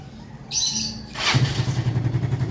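A Yamaha Mio Sporty scooter engine starts and settles into a steady, close, pulsing idle after a brief high chirp, with no talking over it.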